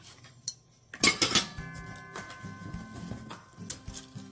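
A Kaisa Villa stainless steel cookware lid handled up close, with a sharp metallic clink followed by a cluster of light rattles and small taps of metal against metal.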